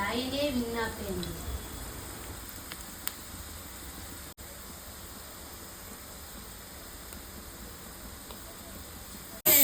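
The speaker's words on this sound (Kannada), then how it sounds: "ಮೀಡಿಯಮ್ ಫ್ಲೇಮಲ್ಲಿ ಇದನ್ನು ಫ್ರೈ ಮಾಡ್ಕೊಳ್ಳಿ" Instant chakli spirals fry in hot oil on a medium flame, a steady even hiss of bubbling that carries on alone after a brief voice at the start.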